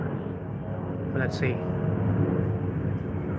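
A deep, continuous Boeing 777 airliner roar rumbles overhead in London, steady and fairly loud, while a person speaks briefly over it.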